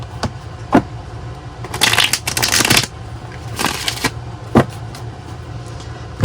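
A deck of tarot cards is shuffled during a reading, with several rustling, riffling bursts and sharp card taps close by over a quiet room background.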